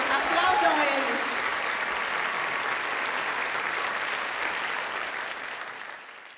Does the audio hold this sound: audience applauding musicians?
yes